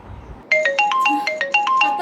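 A phone ringtone for an incoming call, a bright repeating electronic melody of short pulsed notes that starts abruptly after a brief quiet moment and rings loud and close.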